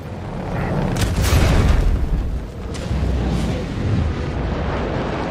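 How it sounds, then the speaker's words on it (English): A torpedo strikes a spacecraft in the space game Star Citizen and explodes in a loud, sustained rumbling blast with bright bursts up front, fading into a continuous roar. "I didn't see it, but yes, it appears the torpedo hit"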